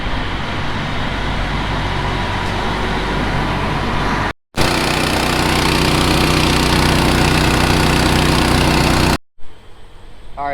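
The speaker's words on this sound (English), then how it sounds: "we have the air compressor here right now" Air compressor running steadily while inflating a flat tractor tire on a farm during equipment shuffling, a loud continuous engine-like drone that cuts out briefly twice, with a quieter hum at the very end.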